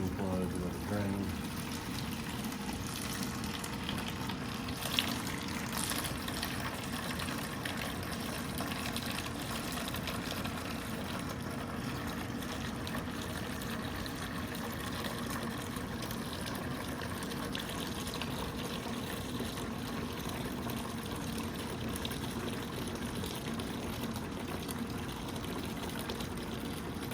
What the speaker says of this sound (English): Pull the drain plug, let it drain.